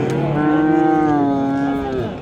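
A calf at a livestock market gives one long, loud, close moo lasting about two seconds, with a drawn-out bellowing tone and faint market noise behind it.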